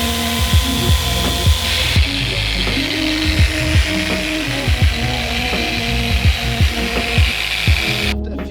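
A machine polisher runs on Range Rover paintwork during ceramic coating, a loud steady mechanical whir with rhythmic clicking pulses repeating about every half second, close up and without speech.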